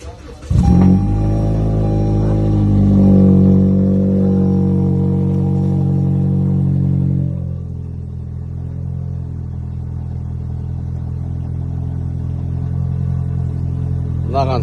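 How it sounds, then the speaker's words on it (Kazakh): A 2017 Toyota Camry with a sport exhaust muffler fitted, its engine revving up in a loud close rumbling roar that holds for several seconds, then drops to a steady lower idle. "Мынаған спортивный ненің глушителін салып қойған."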